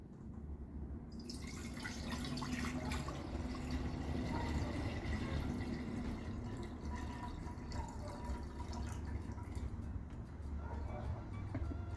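Water pours into a transparent container until it is a little over half full, a continuous close trickling and filling that runs steadily for several seconds over faint background rumble.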